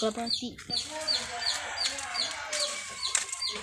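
Pigeons kept in a backyard loft, including saddle-marked birds, give repeated short cooing and clucking calls at a moderate distance, with rustling and a few voices talking around them.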